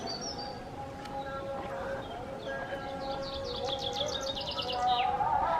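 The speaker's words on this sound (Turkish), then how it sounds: "Aynı güzel kuş sesleri." Birds sing in rapid trilling phrases and chirps over a low outdoor hum in a Turkish village, with a rising background rumble toward the end.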